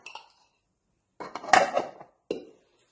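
A lid clatters onto a vessel to cover chapati dough made with drumstick (moringa) leaves. There are three brief metallic clinks, a short one first and then two closer knocks after a pause.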